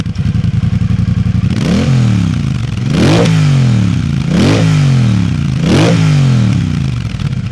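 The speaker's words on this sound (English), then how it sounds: "the sound this bike creates literally makes you feel like you're on fire" A 2024 Triumph Bobber twin-exhaust motorcycle idles with a deep, steady burble, then is revved loud three times in a rhythmic rise-and-fall, each blip swelling and dropping back to idle, close to the listener with no talk.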